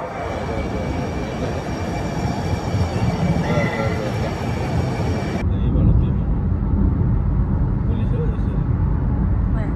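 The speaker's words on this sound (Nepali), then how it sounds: "ट्रेन आएर छ्याप्पै उसको स्टेसनमा बस्यो" An electric metro train rolls into a downtown station, its wheels rumbling and squealing in a loud, continuous roar that shifts partway through as it slows, with people talking nearby.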